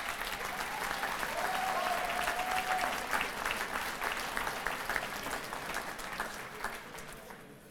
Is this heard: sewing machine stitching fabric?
no